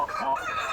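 Buff Orpington hens about to lay give a brief, close, drawn-out clucking call.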